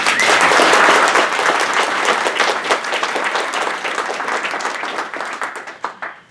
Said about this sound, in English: your loudest applause for Paul Dorpat